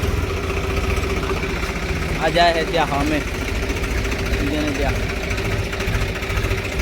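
A tractor engine idles in a steady low rumble through the whole stretch while people talk nearby over it.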